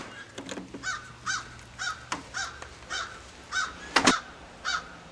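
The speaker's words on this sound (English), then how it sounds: "Ah, the crows." Crows caw repeatedly outdoors on a cool day, giving a rhythmic series of about ten harsh, fairly close calls spaced roughly half a second apart, with no talking.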